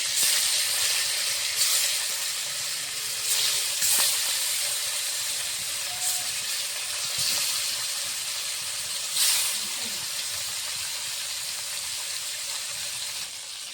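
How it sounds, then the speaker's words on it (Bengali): Fish fries in mustard oil in a wok, producing a steady hissing sizzle with a few louder spitting bursts, heard close and alone without speech. "কড়াইতে মাছ ভাজার জন্য সরষের তেল দিয়ে দিয়েছি।"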